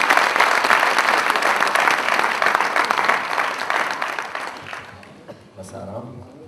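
An audience at an event breaks into loud, dense applause that stays strong, then gradually thins and fades toward the end as a voice begins speaking.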